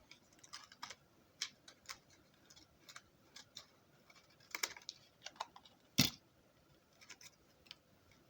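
Scissors snip designer gift wrapping paper in a few faint, sharp cuts scattered across a quiet room, with one louder snip standing out.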